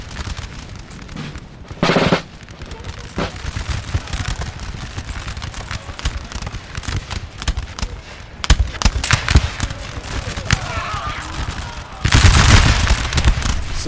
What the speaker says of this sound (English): Some very nasty volleys there.